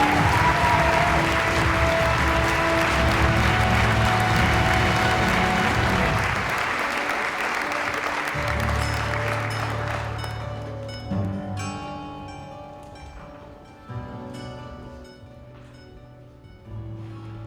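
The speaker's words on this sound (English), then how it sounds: "Let's give a round of applause one more time for all of these wonderful individuals" An audience at a charity walk event applauds loudly and steadily, with the clapping thinning and fading out toward the end.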